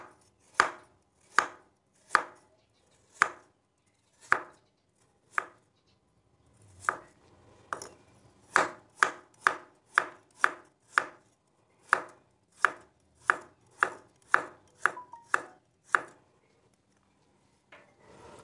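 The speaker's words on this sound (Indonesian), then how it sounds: "Nah ini wortel, aku potong-potong seperti ini." A knife chops carrots on a cutting board in a home kitchen in about twenty crisp, evenly spaced thuds with a short pause partway through, close and clear with no talking.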